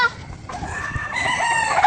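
A chicken clucks briefly, then a rooster breaks into a loud, drawn-out crow close by.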